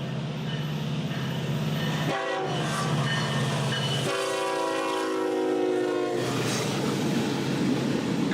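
A short Norfolk Southern intermodal freight train led by three NS locomotives rumbles past with steady rail noise while its horn sounds in two long blasts, the second longer and louder.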